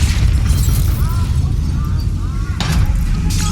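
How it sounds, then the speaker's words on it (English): Heavy rumbling explosions and bursts from Call of Duty: Black Ops III fill the clip, with a sharp crack near the end, under a constant loud low roar of combat noise. "we have multiple explosions across the facility"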